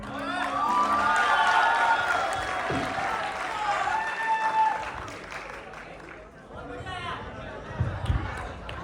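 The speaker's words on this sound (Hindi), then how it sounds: "बहुत ही खूबसूरत कृतिन के लिए बार जोरदार तालियां यार" Audience applause and cheering at an open mic poetry and singing event, a steady clapping crowd sustained for several seconds with a voice speaking over it.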